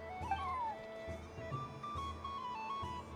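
A cat meowing in the video game Genshin Impact, faint rising and falling mews over a soft game soundtrack.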